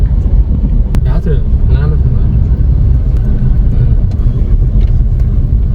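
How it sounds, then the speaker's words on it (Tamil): A lorry from Rajasthan idles with a heavy, steady low engine rumble close by, while people talk over it and a few sharp clanks and knocks come through. "ராஜஸ்தான்லேருந்து வருது இந்த வண்டி"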